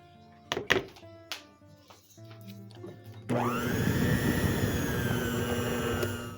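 A kitchen mixer beats gluten-free French bread dough with baking powder just added, starting after a few knocks and clatters and then running loud and steady with a whirring motor drone and thick churning for several seconds.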